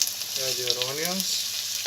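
Onions sizzle in hot oil in a pan as the base for stuffed dried peppers, a steady close frying hiss throughout with a brief faint voice in the middle.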